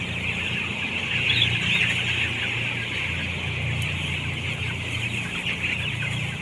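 Chickens cluck steadily at close range, a continuous busy flock chatter with no talking over it.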